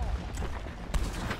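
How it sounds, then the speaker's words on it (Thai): Sustained gunfire in a Red Dead Redemption 2 shootout, a machine gun firing in a dense, rumbling barrage with a couple of sharper bursts standing out, loud and continuous throughout. "มันเป็นปืนกลเหรอผมนึกว่าปืนใหญ่"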